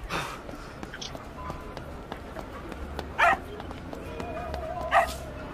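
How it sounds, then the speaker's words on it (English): A dog gives a few short barks and yips, spaced apart against a busy background of soft noises, while someone speaks to it calmly in an animated scene. "Easy, boy! Good dog!"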